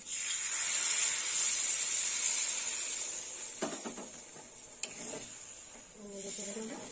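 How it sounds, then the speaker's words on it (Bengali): Water poured into a hot pan while cooking Bengali egg curry gives a steady, bright hissing sizzle that slowly fades, with a few soft clinks and a brief voice near the end. "এবার জল দিয়ে দেবো। দিয়ে দিলাম জল।"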